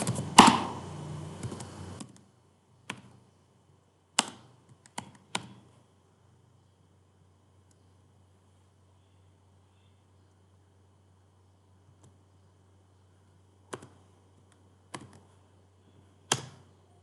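Sparse, crisp computer keyboard keystrokes tap out singly and in short clusters, widely spaced with long quiet gaps between, close and fairly soft with no talking.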